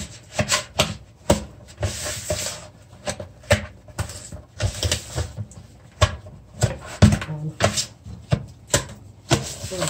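Butter and sugar are creamed together with a spatula for a Christmas sorrel fruit cake, producing rhythmic scraping and rubbing strokes in a bowl, close and fairly loud, with no talk over them.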